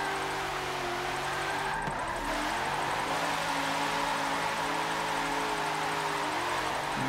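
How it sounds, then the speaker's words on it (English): Drift car in fourth gear at a drift competition, engine droning steadily with a brief dip and surge as the clutch is kicked to keep it in power, heard continuously from inside the car. "Having the clutch kick to stay in power."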